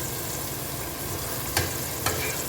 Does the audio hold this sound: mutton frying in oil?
yes